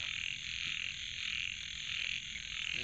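Frogs croak in a dense, continuous chorus around a forest fishing spot, a steady high trilling drone that pulses gently and stays fairly loud throughout with no talking.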